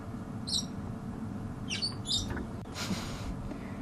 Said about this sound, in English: I'm just going to be quiet for a moment so you can hear the chirps because they sound just like the parrots that one might find in a pet shop.